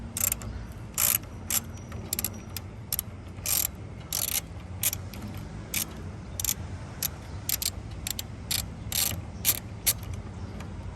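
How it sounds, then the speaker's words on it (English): Socket ratchet loosening 8mm bolts from a Mercedes W140 front grille, a steady run of rapid close clicking strokes with brief pauses, over low background hum. "So let's grab our socket and get to it."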